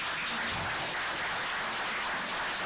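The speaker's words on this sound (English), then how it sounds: "let's try to keep the applause and everything down" Steady applause from the audience at a public meeting of the Monument Avenue Commission, a dense even clapping that holds at moderate loudness throughout.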